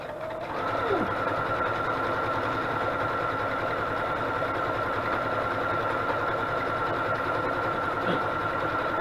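A sewing machine runs continuously in a zigzag stitch, stitching through collaged paper journaling cards, a steady close whir with a brief shift in pitch near the start and another near the end.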